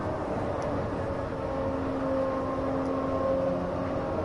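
Ferrari engine in Assetto Corsa, a sustained, loud, even drone with steady tonal harmonics that swell slightly toward the end.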